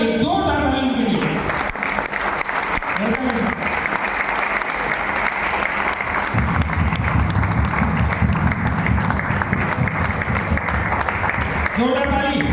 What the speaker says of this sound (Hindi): Please welcome on the stage Maninder sir, एक जोरदार ताली के लिए।